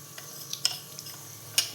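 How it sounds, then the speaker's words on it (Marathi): Faint hot oil sizzles softly as mustard seeds are tempered in it, broken by a few sharp, scattered pops and crackles. "आता इथे आपण फोडणी देतो."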